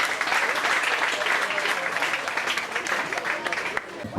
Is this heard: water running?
no